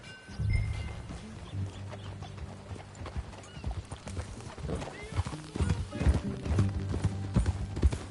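Horse hooves clip-clopping in Red Dead Redemption 2, a steady rhythmic trot of a ridden horse with low rumbling tones and a whinny, moderately close and quiet overall, growing busier toward the end.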